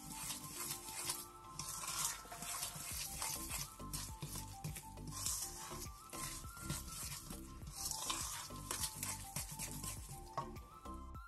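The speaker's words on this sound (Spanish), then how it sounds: "Seguimos moviendo un poquito más" Cookie dough being stirred in a bowl as flour is worked in, a steady scraping and rubbing that repeats in a loose rhythm, close and fairly faint, with no talking.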